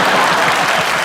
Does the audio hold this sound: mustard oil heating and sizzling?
no